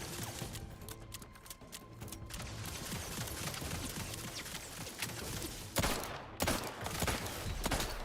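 Sharp gunshots fired in The Outer Worlds 2, a first-person game, come as scattered single cracks and short bursts over a low ambient bed, with a few louder reports toward the end.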